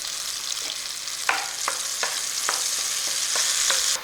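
A paste sizzles and crackles in hot oil while a utensil scrapes the pan every half second or so, close by and steady.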